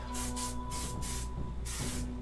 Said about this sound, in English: All right, I'm gonna give that a spray